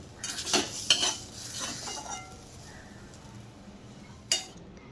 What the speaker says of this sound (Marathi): सर्व परतलेली मेथी एका डिशमध्ये आपण काढून घेऊ आणि पूर्ण थंड करून घेऊ.